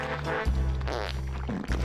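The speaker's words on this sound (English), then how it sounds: "they have farts as instruments in this song" Synthesized fart noises played as musical instruments carry a tonal, saxophone-like melody in a song from the video game Conker's Bad Fur Day, sounding as steady, buzzy sustained notes with short breaks between phrases.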